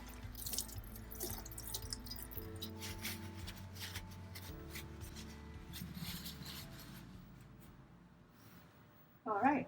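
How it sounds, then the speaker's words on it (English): Hands being washed under a running tap at a sink, a steady close patter of water with rubbing and dripping that stops near the end, followed by a brief voice. "Make sure to wash your hands properly"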